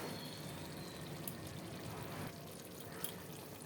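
Boiled mutton being poured from a pot into a kadai while making dry mutton bhuna, a steady wet pouring and splashing that runs the whole time at moderate level, with a couple of brief clinks, and no one talking.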